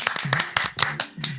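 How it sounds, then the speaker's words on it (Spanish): On a podcast set, a handful of people give a few quick, close, distinct claps, with a voice heard between them. "Un aplauso, por favor."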